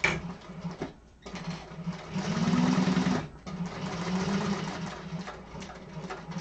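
A sewing machine stitches a zipper section on a double-zip bag, running in steady bursts with a whirring, rhythmic needle patter. It pauses briefly twice between runs and sounds close and fairly loud.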